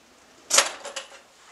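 A deep drawer of a large shop toolbox slides open with a quick metallic rattle and clunk, followed by a couple of lighter clicks, close and quiet in an otherwise still room.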